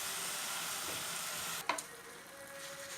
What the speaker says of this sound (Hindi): तो देखिए यहाँ पे मैंने इसमें दूध डाल दिया है। चला देंगे इसे।